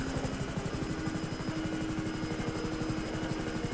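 Helicopter in GTA, a steady rapid rotor thump with a whining engine hum, loud and constant throughout.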